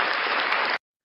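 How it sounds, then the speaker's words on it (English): A short burst of dense, steady applause, like a crowd clapping together, cutting off abruptly into silence after under a second. "Round of applause for Unclean Hands."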